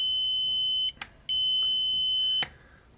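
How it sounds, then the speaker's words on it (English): The instrument cluster of a Ford Think sounds a steady high electronic beep while in reverse on a test bench, a continuous tone broken by a short gap and a few clicks before stopping. "It will beep when it is in reverse."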